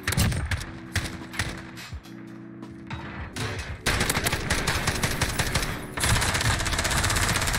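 Rapid automatic gunfire in Call of Duty Modern Warfare multiplayer, loud bursts of shots with mechanical clacks and short pauses, building to sustained firing near the end.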